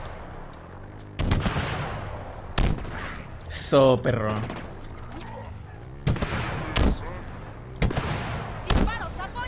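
Gunfire in the video game Halo Infinite: sharp, loud shots and blasts in separate bursts spread across the stretch, with a player talking between them.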